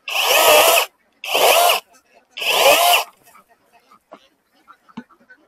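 A 12-inch chainsaw cuts through a tree trunk on a tree farm in three loud, close bursts of about a second each. Each burst stops abruptly, and faint scattered knocks and rustles follow.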